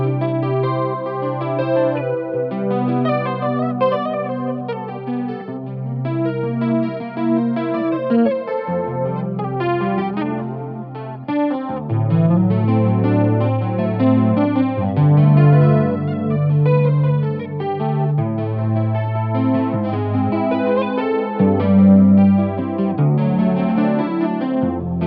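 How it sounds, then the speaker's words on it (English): A harpejji played through a chorus pedal paired with reverb, sustained shimmering chords and melodic notes layered into a lush, washy tone, loud and continuous with no talking. "When you pair chorus with reverb, you get this like up in the cloud effect"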